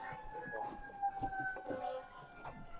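Faint sirens wail in the distance, their tones gliding slowly up and down, with a few murmured voices underneath.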